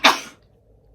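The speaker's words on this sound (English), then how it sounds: "sorry, I might sneeze." A single sharp, abrupt burst from one person, close and loud, followed by quiet; it sounds much like a cough.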